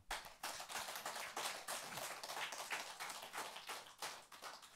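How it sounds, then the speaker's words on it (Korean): Hands clapping throughout a Buddhist sutra lecture hall as the audience answers a monk's call, a dense run of sharp, fairly close claps with no talk over them. "박수 한 번 쳐요"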